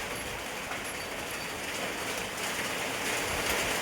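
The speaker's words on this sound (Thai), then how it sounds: "ฝนมาแล้วพี่น้องเอ้ยบัดนี้" Steady rain falls in a broad, even hiss with no voices, a continuous wash of drops that swells slightly toward the end.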